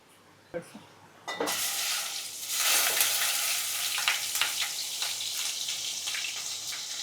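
Cumin seeds dropped into hot oil for Kolhapuri misal, a couple of clicks and then a loud sudden sizzle that settles into steady close frying with crackles.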